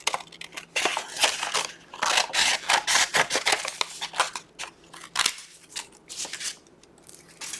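Scissors cutting through a folded paper accordion for a junk journal page, giving close, crisp snips and papery crunching in quick uneven bursts with no talking.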